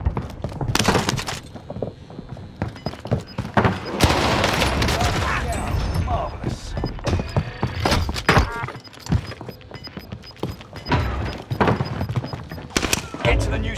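Bursts of automatic gunfire in Call of Duty Vanguard Warzone on Rebirth Island, sharp repeated shots of a Cooper Carbine and other weapons crackling amid game effects and announcer callouts, loud and dense throughout.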